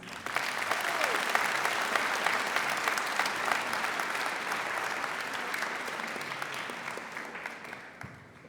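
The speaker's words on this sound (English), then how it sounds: "please give our administrations, both the high school and LGHS, a big round of applause" A school audience gives a warm round of applause at a high school orchestra concert. The clapping stays strong and even for several seconds, then thins and fades toward the end.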